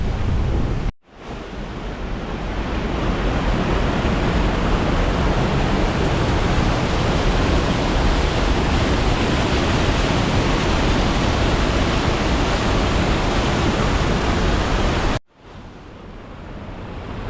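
Steady, loud rush of water at Blackmoss Pot, a deep, cold pool in Langstrath, filling the whole span with dense broadband roar, broken only by brief dropouts near the start and end.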